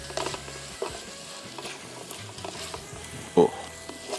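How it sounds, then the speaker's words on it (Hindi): Tomato, garlic and ginger fry over high heat with a soft, continuous sizzle. Occasional spoon clatters and scrapes come through, with one sharper knock near the end. "सो इसको फ्राई करते जाएंगे।"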